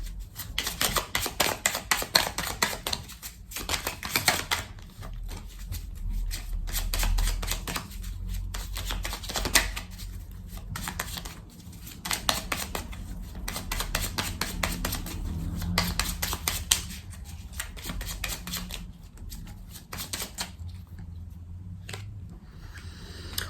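Tarot cards shuffled and laid out on a table, a long run of fast, crisp riffling and slapping bursts with brief pauses, close and fairly loud, no voices.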